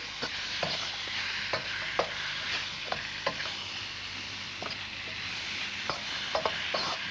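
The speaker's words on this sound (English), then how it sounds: "Continue stir-frying that until the chicken is nice and lightly brown." Steady loud sizzling of chicken stir-frying in a hot wok, with a spatula scraping and tapping the metal at irregular intervals.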